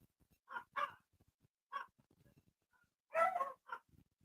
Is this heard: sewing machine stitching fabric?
no